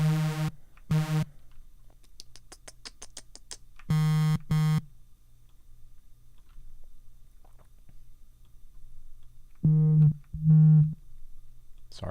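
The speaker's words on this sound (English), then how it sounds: "I can probably just distort the sine wave." Distorted sine wave synth notes, short buzzy harmonic-rich tones played in sparse bursts with gaps of near silence, bright and loud against a low steady hum.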